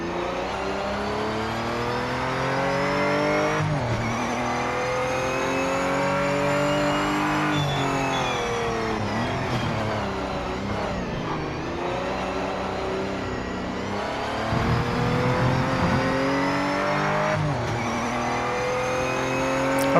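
A race car engine in the video game Project Motor Racing revs high and steady, rising through gears with brief drops at each shift and lifts for braking, loud and continuous with no talking.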